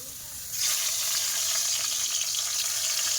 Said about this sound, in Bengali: তো এবারে আমি উচ্ছে ভাজবো